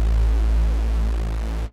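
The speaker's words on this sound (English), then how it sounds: "Once you crank up the envelope knob, you should get something that sounds like this." A Logic Pro X Retro Synth patch with its filter envelope turned far up plays alone as a dense, sustained, bright tone with strong low-end, holding steady for under two seconds before cutting off abruptly.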